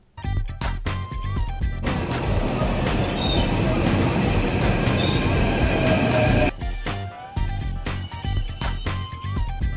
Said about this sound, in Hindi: तो लीजिए, आ गई हमारी मेट्रो।